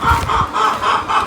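Hens cluck close by in a short series of rhythmic, rapid bursts with no talking.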